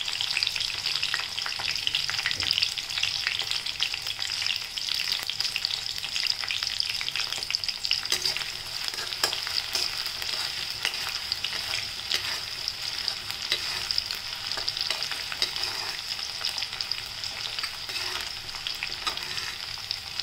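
Garlic and green chillies fry in a hot pan with a steady, even sizzle and occasional stirring, heard alone with no talking.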